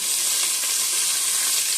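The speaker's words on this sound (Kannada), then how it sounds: "ಇವಾಗ ಅದನ್ನು ಸ್ವಲ್ಪ ಫ್ರೈ ಮಾಡ್ಕೊಳ್ಳೋಣ." Onion, ridge gourd and brinjal fry in a pan for sambar, giving a steady, close hiss of sizzling oil with faint stirring and no talk.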